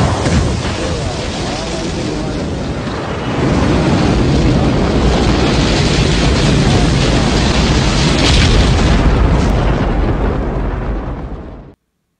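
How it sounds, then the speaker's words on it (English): Estes NASA SLS model rocket motor igniting and lifting off, a sustained loud broadband roar with heavy wind-buffeted rumble that swells after a few seconds and holds steady before cutting off abruptly. "Ignition sequence start."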